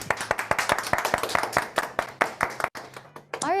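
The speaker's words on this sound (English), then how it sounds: "would you please give him a round of applause?" A small audience claps after a speech in a brisk burst of dense, close handclaps that thin out and fade toward the end.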